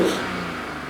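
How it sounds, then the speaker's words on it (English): A BMW G80 M3 with a single turbo and a valved single-exit exhaust, valves closed, gives a short, muffled rev close by. The revving is smooth and fairly subdued and fades slightly as it settles. "Check out this custom Bimmer Hub single exit exhaust with fully valved system here"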